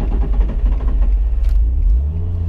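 Supercharged Nissan 350z engine rumbles loud and close from inside the car as it pulls onto a highway, a steady low drone with a slight rise in revs toward the end.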